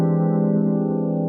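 An advanced five-note piano chord voicing on E rings out steadily and fairly loud for just over a second, with no talking.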